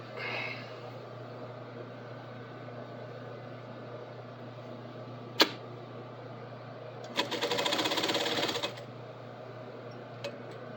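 A sewing machine stitching the bottom hem of stretch fabric, one short burst of rapid mechanical whirring lasting about a second and a half, close and fairly quiet, with a couple of soft clicks and a low hum around it.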